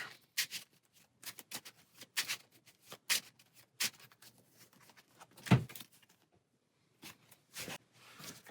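A deck of cards for the APEX Theropod deck-building game being shuffled by hand in bursts of crisp riffles and slides, with brief pauses and quiet gaps between rounds. The sound is near and close-miked, with no talk.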